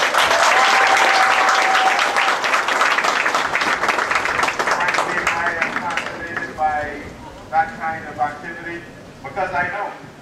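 An audience at a community band and police band concert applauds loudly with dense clapping that fades over several seconds, and a voice speaks over the closing claps.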